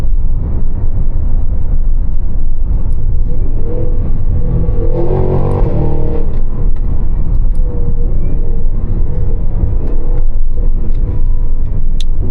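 Cadillac Escalade V engine running steadily with a loud, continuous low rumble and exhaust drone heard from inside the cabin, swelling slightly midway, no talking.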